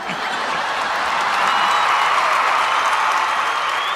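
A studio audience applauds continuously at an even, dense level for the full few seconds, with no voices rising above the clapping.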